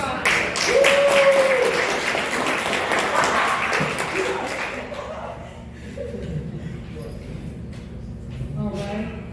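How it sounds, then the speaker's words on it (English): A graduation audience at the HRAP ceremony claps and laughs for a graduate, with dense applause for the first few seconds that fades into scattered claps, chuckles and murmured talk. "let's give another round of applause for Bob."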